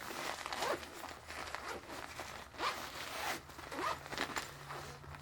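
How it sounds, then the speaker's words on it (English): The dark compression zipper on a carry-on suitcase is undone in a few long rasping pulls, close and fairly quiet, with soft fabric rustle between strokes. "this darker zipper part is what condenses it down. So if I undo it"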